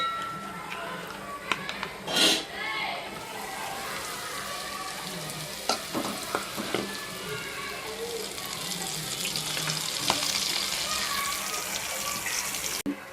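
Crispy corn mixture frying in a pan, a steady soft sizzle with water-like hiss running throughout, close by, with a few brief clinks and scrapes and a voice speaking over it.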